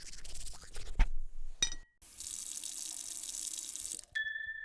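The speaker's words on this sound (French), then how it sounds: "on va calculer combien d'eau vous utilisez pour vous laver les dents" A bathroom tap runs into a sink while someone brushes their teeth, with a few clinks and brushing scrapes first, then a steady close hiss of flowing water that cuts off, followed by a faint squeak.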